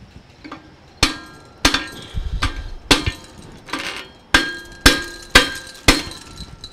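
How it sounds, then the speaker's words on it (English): A 10-ounce ball peen hammer strikes in a bike shop, giving about a dozen sharp metallic cracks and clangs. The blows come close and loud at a slightly irregular pace, each one ringing briefly before the next. "I'm going to take a pretty good size hammer. I'm going to give it a little crack."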